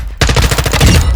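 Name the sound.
gun firing in video game Call of Duty MWII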